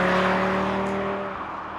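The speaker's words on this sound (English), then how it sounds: "it's a thrill to listen to the unique sound of this 5-cylinder engine" The five-cylinder engine of a 2022 Audi RS3 holds a steady, loud, close drone with a strong tonal growl, easing slightly in level toward the end, with no other sounds.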